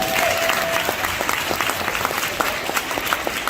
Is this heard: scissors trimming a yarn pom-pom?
no